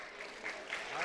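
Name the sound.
applause at a school ceremony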